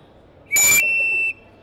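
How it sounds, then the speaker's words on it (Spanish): A single shrill whistle blast from a polychrome clay whistle made in Tonalá, Jalisco, steady in pitch and under a second long, sounds close and loud against near silence. "este silbato es una pieza muy especial"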